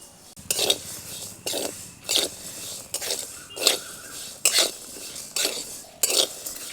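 A spoon stirs sabudana, peanuts and green chili dry-roasting in a wok, in repeated scraping metallic strokes about once every half second, close and fairly loud, with no talk.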